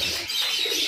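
Racing homer pigeons in a loft give a soft, brief coo with faint chirps, close and unaccompanied by talk.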